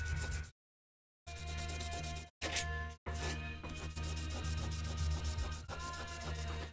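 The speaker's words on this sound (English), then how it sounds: "Get rid of that rust. Sand it off." Sandpaper rubbing rust off a board by hand: steady rapid back-and-forth scratchy strokes, close and continuous, stopping briefly twice before resuming.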